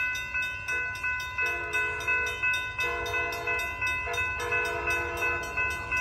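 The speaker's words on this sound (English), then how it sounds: "here comes Amtrak. 744 Capital Corridor trains" An Amtrak Capitol Corridor passenger train, northbound, rolls past close by at Alvarado Street in San Leandro, its horn sounding in long harmonic blasts over a rhythmic clatter of wheels on the rails.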